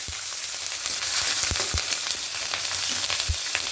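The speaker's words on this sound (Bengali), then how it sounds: "এবার এখানে কিছুটা কাঁচা লঙ্কা দিয়ে দেবো" Green chilies hit hot oil and spices in a pan, giving a steady close sizzle with scattered spatters and pops while cooking a bottle gourd dish with hilsa fish head.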